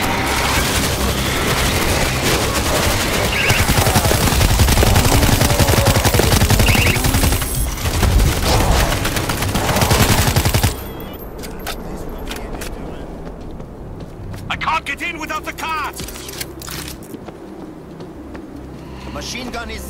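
An auto turret in the World War Z game fires rapid bursts of machine-gun fire that are loud and dense for about ten seconds, then drop to scattered, quieter shots and clatter, with voices speaking over the action.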